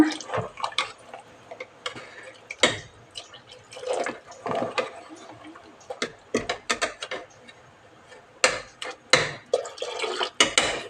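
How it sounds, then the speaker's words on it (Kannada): Water poured into a pot of village-style mutton sambar, with irregular splashing and sloshing bursts, some clatter of a vessel, and quieter gaps between pours, fairly close. "ನಮಗಿವಾಗ ಸಾಂಬಾರಿಗೆ ಎಷ್ಟು ನೀರು ಬೇಕು ಅಷ್ಟು ನೀರನ್ನ ಸೇರಿಸೋಣ"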